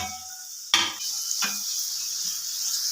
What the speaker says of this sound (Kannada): ಕಟ್ ಮಾಡ್ಕೊಂಡಿರೋ ಈರುಳ್ಳಿನ ಹಾಕ್ತಾ ಇದ್ದೀನಿ